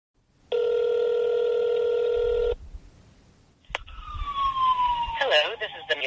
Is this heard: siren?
yes